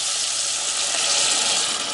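Meat broth from a sous vide roast beef poured into a hot pan, giving a loud, even rushing sizzle of liquid hitting the metal, close and continuous for the whole moment.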